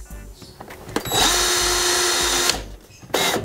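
A cordless screwdriver drives a screw into PVC ceiling panelling, a steady loud whir of about a second and a half with short bursts of motor whine on either side, up close with no talking.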